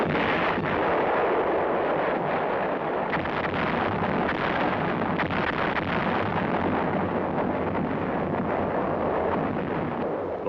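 A field artillery piece fires from its emplacement with a broad, booming roar. The blast and its rumbling wash fill the whole stretch with dense, sustained noise, heavy and loud.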